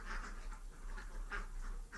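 Ducks quacking on a duck farm raising laying ducks, a steady chorus of repeated quacks from several birds at moderate distance, with no talk.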